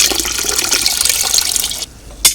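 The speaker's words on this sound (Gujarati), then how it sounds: "તેમાં પાણી એડ કરીશું." Water poured into curd to make buttermilk runs as a steady splashing stream for about two seconds, then stops, followed by one brief splash.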